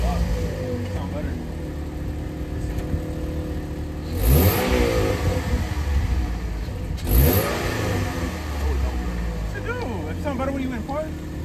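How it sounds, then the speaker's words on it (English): Car engine revved in neutral, surging in two strong bursts around the middle over a steady idle, close by, with young people talking throughout. "Put it in neutral when you rev it."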